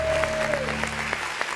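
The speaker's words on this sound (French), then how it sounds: "On va applaudir" Applause from a debate audience in France rises as a dense, steady patter, with a sustained hum and a faint voice beneath it.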